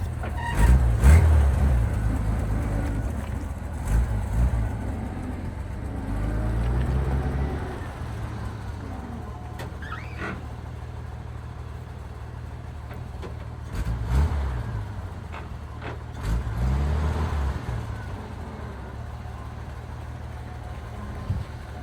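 A 1942 Dodge truck engine rumbles steadily at close range, with low growls rising and falling as it revs and idles through several manoeuvres.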